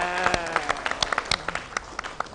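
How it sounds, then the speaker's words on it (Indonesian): Audience applause at a community event in Plengkunggading honoring a national makeup-competition winner, a dense, even stretch of clapping with some louder individual claps standing out, close and continuous throughout. "Kita beri tepuk tangan ya."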